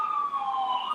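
A steady police siren tone wailing continuously for the whole second, fairly prominent with faint traffic hum beneath.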